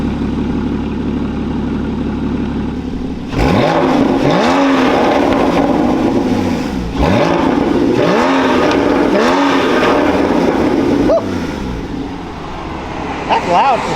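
A Honda S2000 engine revs hard several times in loud bursts, pitch sweeping up and down, over a steady idle rumble nearby.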